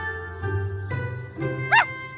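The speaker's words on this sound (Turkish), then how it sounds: "Köpekçik koklayarak konteynerlerin içinde ne olduğunu anlamaya çalışıyor." A cartoon dog sniffing at shipping containers gives a few short yips and whimpers, with a jingling chime over them, all brief and close.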